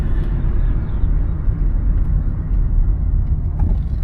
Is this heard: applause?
no